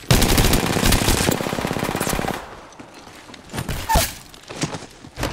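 Gunfire in the video game Apex Legends opens as a loud, rapid automatic burst lasting about two seconds, followed by a few scattered single shots and thuds.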